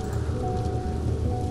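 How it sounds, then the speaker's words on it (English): Heavy rain pours steadily in the video game The Kidnap, a dense, continuous hiss of drops drumming on surfaces, loud and unbroken throughout with no voices. "Why is it raining so hard?"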